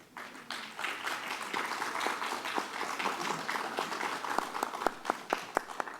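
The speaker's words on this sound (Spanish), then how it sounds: "Y si pudieran darle un aplauso," An audience applauds at an academic alumni event, a soft, scattered patter of clapping that lasts several seconds at modest volume, with a few sharper claps toward the end.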